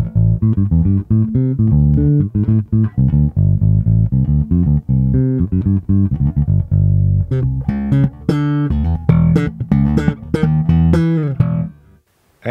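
Bass guitar played through a preamp into a channel on an Allen & Heath mixing desk: a continuous run of plucked notes, full and close, ending in a short fade, with no talking.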